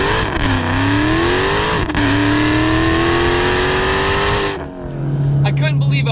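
A 1000 wheel-horsepower Dodge Demon accelerates hard on a back road, its loud engine roar climbing in pitch through a quick gear change. It then drops sharply as the throttle lifts near the end.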